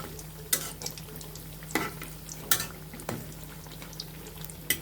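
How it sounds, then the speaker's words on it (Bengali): Chicken kuli pitha frying in oil over medium-low heat, a soft steady bubbling sizzle punctuated by several sharp clinks and scrapes as the pieces are turned; no speech. "এভাবে আমরা উল্টিয়ে পাল্টিয়ে ব্রাউন কালার করে সবকটি ভেজে নিব।"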